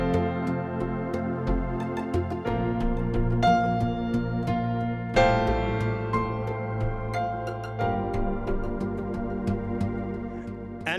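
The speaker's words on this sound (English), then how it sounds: "I have an arpeggiator. I can turn it on. It sounds like this." Arpeggiator on a Yamaha MX61 keyboard cycling rapid repeating synth notes in a steady pattern, with the chord changing every couple of seconds, loud and close with no voices.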